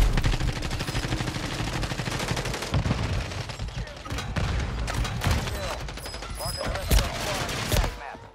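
Rapid video-game gunfire crackles almost nonstop in dense bursts and volleys, loud and close, with a few sharper single shots standing out near the end.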